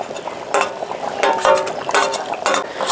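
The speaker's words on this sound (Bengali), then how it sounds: "আর এখন ঝোলের মধ্যে দিয়ে দিচ্ছি আলু" Potatoes go into simmering mutton curry gravy in a pan: several bursts of wet clattering and sizzling stirring, close and fairly loud, spaced about half a second apart over a faint steady bubbling.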